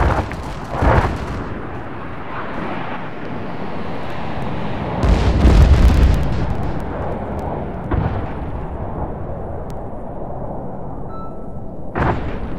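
Repeated explosions from an aerial bombing run cratering a runway in a real-time terrain deformation demo: loud booming blasts with a long rumbling tail, several heavy hits spaced across the span and a sharp final burst near the end.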